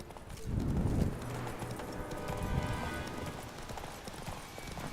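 Roach, the horse in The Witcher 3, gallops with a steady, rapid clip-clop of hooves close by, the rhythmic beats running throughout under faint background game ambience.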